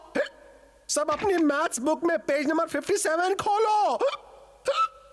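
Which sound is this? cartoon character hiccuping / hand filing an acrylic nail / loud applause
cartoon character hiccuping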